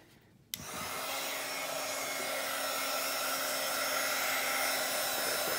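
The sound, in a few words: dryer drying a napkin image on a Bible page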